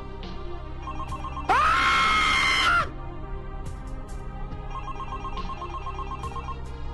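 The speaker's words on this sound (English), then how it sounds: "Where did that phone come from?" A telephone rings loudly in a single electronic burst lasting just over a second, set against a quiet, eerie Halloween scene with faint background tones and no speech.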